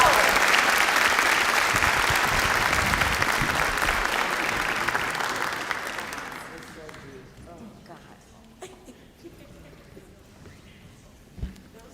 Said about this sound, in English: how about a round of applause for Jasmine Guy?